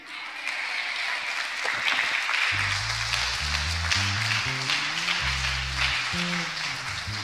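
Church congregation at a French-language worship service applauding steadily, a continuous wash of clapping joined partway through by loud organ or keyboard chords.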